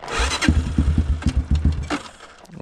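A DT 180 motorcycle engine is kicked over repeatedly, giving short sputtering bursts that catch briefly and then die, loud and close in a cornfield.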